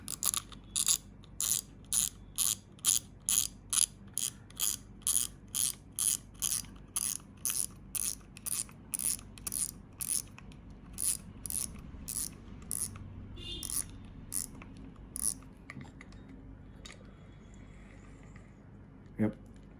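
A fishing reel's spool and drag knob are refitted, giving a fast, regular run of crisp ratchet clicks that later thin into scattered clicks and mechanical fiddling.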